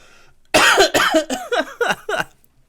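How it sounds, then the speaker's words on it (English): A burst of harsh coughing, about six coughs in a quick, uneven series, loud and close, with no talking over it. "you're making me cough"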